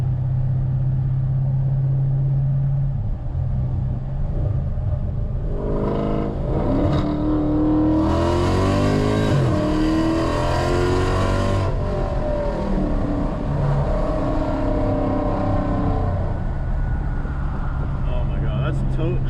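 A Dodge Challenger ScatPack on a city road accelerates hard, its engine droning loud and steady from inside the cabin, the pitch climbing and sweeping through a burst of revs midway before settling back; a voice talks briefly over the engine.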